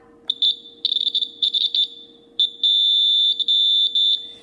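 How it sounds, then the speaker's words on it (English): A buzzer in a simple conductivity circuit sounds as an iron sample bridges the gap: a shrill, loud electronic tone in choppy on-off bursts, then a longer sustained blast, over a faint steady hum. "we can clearly hear that the buzzer is going off"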